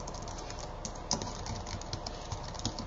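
Steady typing on a computer keyboard as a bookmark description is entered, soft rapid clicks in an even stream with a couple of sharper keystrokes, close up and without talk.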